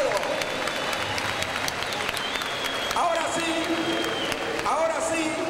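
Boxing fans at the Gimnasio Roberto Durán give the two fighters steady applause after the bout, with a ringside announcer talking over it.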